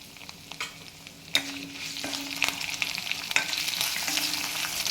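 Onions and curry leaves sizzle in a pan for a fish curry, a quiet continuous fry punctuated by a few scraping stirs and clinks of a spoon against the vessel.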